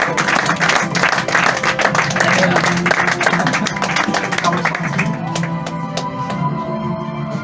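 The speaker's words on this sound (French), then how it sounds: "on peut les applaudir" A theatre audience at a comedy stage hypnosis show applauds the volunteers, with dense, continuous clapping from many hands, loud and close, and a voice talking over it as the clapping gradually thins.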